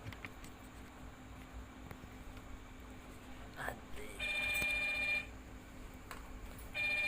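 A phone ringtone sounds in a home kitchen while tomato chutney is being made, two loud tonal bursts of ringing, one in the middle and one starting near the end, over quiet room noise and faint background voices.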